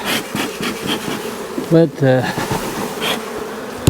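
Honey bees drone and buzz loudly around an open hive during an inspection, a dense close hum with a few individual bees whining past; someone speaks briefly over it.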